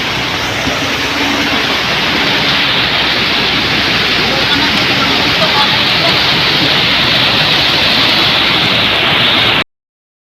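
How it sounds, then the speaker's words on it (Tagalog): Heavy rain pours down in a steady, loud, dense roar that continues without a break for nearly ten seconds and then cuts off. "nagpadayon niya po ng kusog nga ulan"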